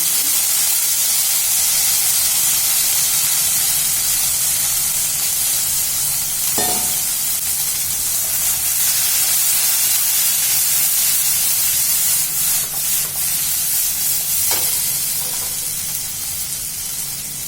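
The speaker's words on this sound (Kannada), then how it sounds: "ಈಗ ನಾನು ಇದಕ್ಕೆ ಅಲ್ಲಿ ಬೇಯಿಸಿರೋ ಆಲೂಗಡ್ಡೆ ಹಾಕ್ತಾ ಇದ್ದೀನಿ" Boiled potatoes frying in a hot pan at home give a continuous loud sizzle and hiss that runs throughout, with occasional soft scrapes of stirring.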